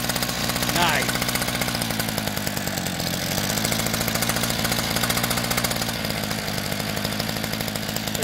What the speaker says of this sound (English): it's just sitting there idling. It's got a heavier, it's a 49cc motor.